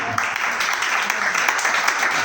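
A church congregation claps and cheers together in a dense, continuous burst of applause that fills the room for a couple of seconds.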